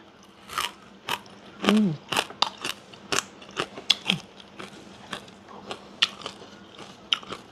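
Small crunchy fried fish bitten and chewed close to the mic, a run of sharp crisp crunches in an irregular rhythm, with quiet pauses between bites.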